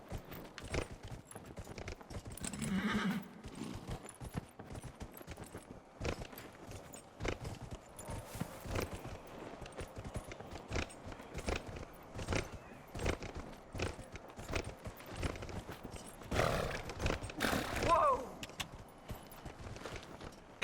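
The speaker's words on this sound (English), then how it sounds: "let's bring the horse in for this" Horse hooves clip-clop through a Dragon Age: Inquisition game scene, a steady walking rhythm of light, fairly close hoofbeats that runs throughout at moderate volume.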